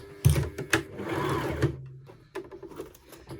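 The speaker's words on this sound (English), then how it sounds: "I'm going to sew the whole way around until we get to the other set of double pins" A sewing machine stitches a half-inch seam around a tiered maxi skirt, with a few sharp clicks and a steady whirring run, then quieter intermittent stitching, close by.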